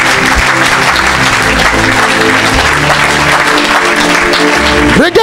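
A church congregation applauding to acclaim Jesus, loud dense clapping sustained throughout with crowd voices mixed in.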